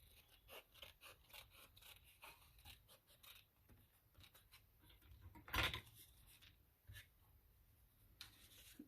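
Scissors trimming paper for a junk journal, a series of soft close snips and rustles with one louder crunchy cut midway, quiet and intimate, no talking.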